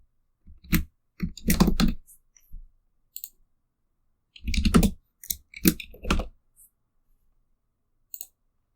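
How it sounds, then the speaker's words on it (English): Bursts of clicky typing on a computer keyboard, loud and close, coming in irregular clusters separated by silent pauses. "saw me typing in the channel"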